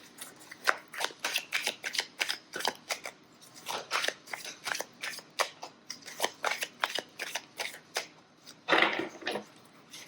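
Tarot divination cards being shuffled close by, a steady run of crisp riffling snaps and flutters across the whole stretch, with a denser burst near the end and no talk.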